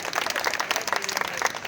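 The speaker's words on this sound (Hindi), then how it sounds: "एक बार जोरदार तालियां" An audience at an outdoor poetry gathering held during a Ganesh festival bursts into loud, rapid clapping, a dense burst of applause lasting under two seconds with no voices over it.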